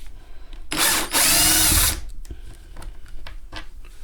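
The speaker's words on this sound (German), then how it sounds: "Akkuschrauber. Ein gutes Bit, was auch sicher sitzt." A cordless screwdriver backs screws out of a vintage 1964 Fender Tremolux amp: one loud, close whirring burst of about a second, followed by softer handling clicks and knocks.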